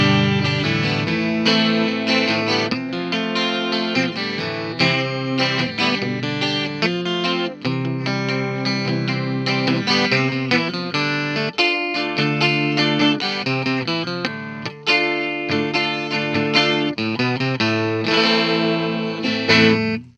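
Twelve-string guitar strummed and picked through heavy effects, shimmering chorus and distortion, loud and continuous for the whole stretch.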